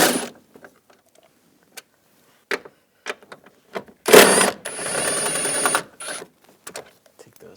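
Ratchet and 13mm socket loosening and removing bolts inside a 2010-2017 Chevrolet Equinox during heater core replacement, with short clicking bursts spread through the clip and one louder metallic burst in the middle.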